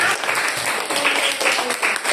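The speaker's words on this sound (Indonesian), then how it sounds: "Beri tepuk tangan untuk kelompok 6" Classroom applause after a group presentation in a school lesson, loud close clapping in uneven bursts with some voices mixed in.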